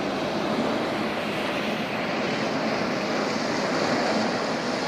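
A steady, loud rush of high-pressure water pouring forcefully into a tanker, a continuous broad roar with no breaks or voices.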